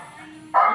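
A dog bark bursts in loudly near the end, a single sharp bark after a stretch of quiet room tone.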